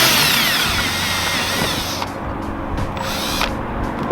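A power drill bores a small pilot hole for a stock Jeep WJ Grand Cherokee seat rail. A loud, close whine runs for about two seconds, then comes back in two short bursts.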